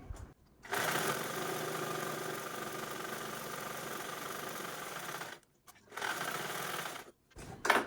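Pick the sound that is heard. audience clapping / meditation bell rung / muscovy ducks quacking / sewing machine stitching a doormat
sewing machine stitching a doormat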